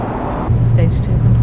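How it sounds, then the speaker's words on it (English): Inside a passenger train travelling beside the Mitchell Freeway, a steady low rumble and hum fills the cabin and grows heavier partway through. A voice talks over the noise. "Stage 2 complete, we're on the train."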